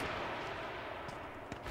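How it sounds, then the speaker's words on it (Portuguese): Dense, continuous battle noise from H1Z1 with broad crackling bursts and a few sharper shots standing out near the end, suggesting sustained distant gunfire throughout. "tá muito parecendo um tiroteio absurdo assim"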